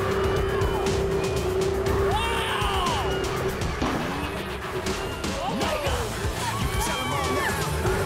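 Jet boat on a New Zealand river speeds toward a waterfall, its engine roaring loudly and steadily while spray rushes around it and excited voices shout over the noise.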